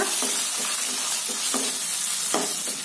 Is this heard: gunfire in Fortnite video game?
no